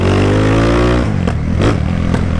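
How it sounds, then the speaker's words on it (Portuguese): A Honda Today scooter engine revs and then drops off, with a clear pop and crackle from the exhaust as it comes down. The sound is loud and close and lasts only a few seconds. "Dá tipo um estouro no som do motor ali."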